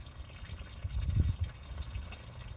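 Coolant water drains out the bottom of a 2013 Dodge Avenger's radiator cooling system during a thermostat housing replacement, a soft steady trickle and splatter that swells briefly in the middle.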